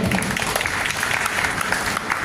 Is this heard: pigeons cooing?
no